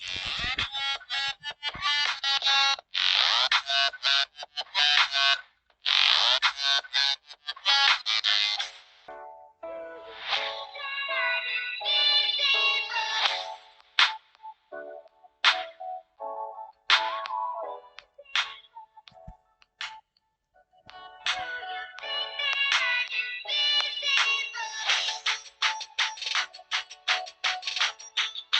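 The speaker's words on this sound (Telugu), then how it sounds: "ఈ స్మార్ట్ వాచ్లో ఒకసారి స్పీకర్ టెస్ట్ అయితే చేద్దాం" A Fire Boltt Cobra Bluetooth-calling smartwatch speaker plays a bright, thin tune through its tiny speaker. The melody runs in bursts with short pauses, steady and moderately loud, with no voices.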